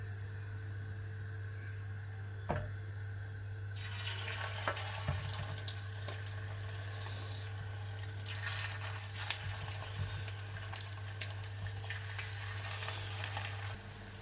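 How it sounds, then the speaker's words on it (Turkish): Steady crackling sizzle of anchovy fish patties frying in hot oil in a pan, continuous and close, with occasional sharper pops and spatters. "Şimdi tavamızda kızartmaya geçiyoruz"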